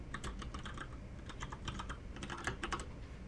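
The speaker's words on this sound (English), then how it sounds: "So I type my password in right there and hit login." Fingers tap out a password on a computer keyboard, producing a quiet, irregular run of close key clicks with no voices.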